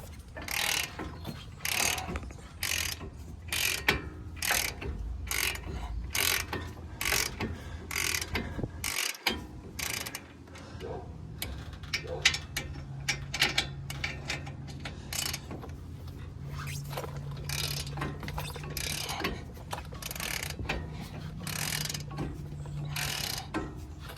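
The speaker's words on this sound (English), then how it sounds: "So this is where I'll throw the bigger ratchet on" Ratchet wrench loosening brake bracket bolts on a Ford Ranger 2.3 EcoBoost, a long run of rapid, fairly loud clicking bursts with short pauses, close up and with no talk.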